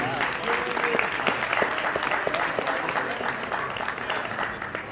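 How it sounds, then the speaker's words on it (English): A crowd claps steadily for the fire team at a gala, a dense and even wash of applause lasting throughout, with voices and a few cheers mixed in. "How about a big round of applause for our fire team?"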